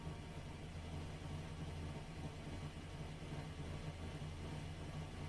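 A steady low racing car engine idle in iRacing hums continuously at a quiet, even level, with no revving or changes throughout.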